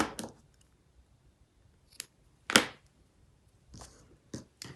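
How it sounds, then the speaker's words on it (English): Scissors snip through the tail of a knotted espadrille thread during hand stitching, one sharp close cut standing out amid a few softer handling sounds and rustles in a quiet room. "Trim off the tail."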